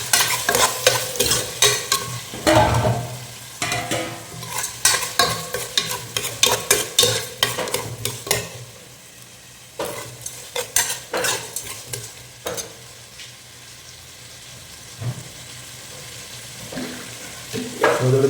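Potatoes and green chillies fry and sizzle in a pan while a spoon stirs them in repeated scraping strokes, loud and close with no voices, the stirring easing off midway before resuming.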